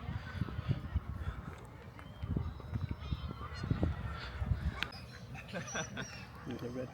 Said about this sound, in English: There's a red-breasted goose here